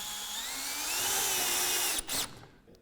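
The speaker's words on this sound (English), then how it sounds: "we also then just insert a 30mm screw into the batten itself." A power drill drives a 30mm screw into a roof batten during a roof window installation, a steady whining motor that rises in pitch, then stops with a short final burst.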